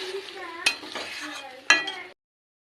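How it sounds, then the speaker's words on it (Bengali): A spoon stirs egg and soybean curry in a cooking pan, sliding through the sauce with two sharp metallic knocks against the pan, and faint tonal sounds from nearby in the background. "এখন নেড়ে দেবো"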